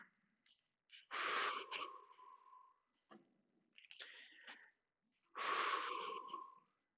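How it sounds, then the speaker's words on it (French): Deep breathing exercise during a home boxing-style fitness session: strong, close breaths in three loud bursts, a long forceful exhale or inhale, a softer breath, then another long forceful one, with quiet pauses between. "Vous videz tout jusqu'à ce que vous ayez plus d'air et vous prenez une grande respiration."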